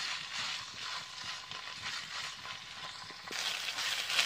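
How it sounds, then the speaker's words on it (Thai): Soft, continuous sizzling and crackling of chilies stir-frying in oil in a pan, with faint scraping from stirring. "เอาพริกลงไปพัดกระคั่วกันนะคะ"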